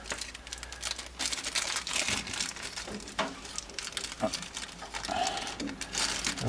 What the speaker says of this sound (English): I'm going to put a plastic bag